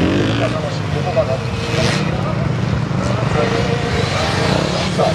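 A Kawasaki ZX-10R sportbike accelerates hard during a gymkhana competition run, its engine a continuous loud roar under an announcer's running commentary.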